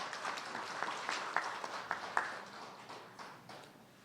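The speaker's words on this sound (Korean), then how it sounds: "감사의 박수 부탁드리겠습니다" Faint, fairly distant applause of thanks from a Buddhist temple congregation in a lecture hall, a soft wash of clapping with a few sharper claps standing out early before it gradually tapers off.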